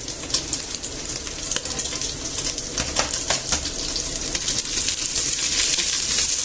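Garlic, about eight cloves, hits browned pork in a hot pan and sizzles loudly and steadily, with crackles and pops scattered through the sustained hiss. No one speaks.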